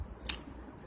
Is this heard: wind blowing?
no